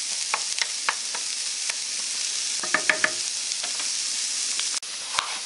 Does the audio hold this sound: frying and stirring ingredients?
yes